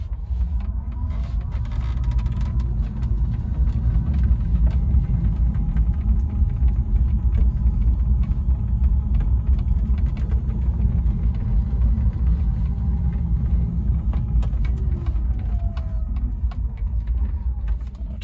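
A Shoprider RainRider Special Edition cabin mobility scooter drives along with a continuous low rumble of motion and motor noise, steady and moderately loud throughout.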